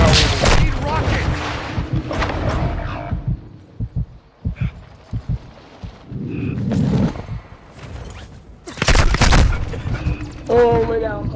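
Gunfire in the Warzone 2 shooter game: bursts of sharp, loud shots in clusters with gaps between, some close and booming, mixed with players talking over voice chat.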